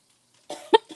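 A single person coughs a few times in quick succession, close and sharp, after a near-silent start, with no words spoken.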